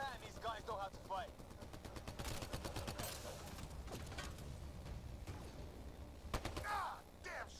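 Rapid bursts of sci-fi weapon fire in the Mass Effect Andromeda prologue on the Hyperion and planetside, sustained volleys and sharp shots layered with explosions, mixed under a man's in-game voice chatter.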